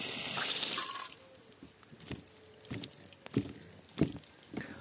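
Water running through a hose on a hydraulic ram pump, a steady near gush and splash with a louder burst at the start, then softer trickling and irregular drips and knocks.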